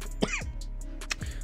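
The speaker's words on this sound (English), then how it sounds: "Sorry for the cough there." A single person coughs and clears the throat up close, two rough bursts a moment apart.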